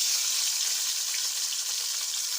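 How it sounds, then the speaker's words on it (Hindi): Tomatoes sizzle steadily in hot oil for a fish curry gravy, producing an even, bright frying hiss that stays close and constant with no talking. "ऑयल हमारा अच्छे से गर्म हो चुका है, तो अब इसमें हम अपने टमाटर ऐड करेंगे"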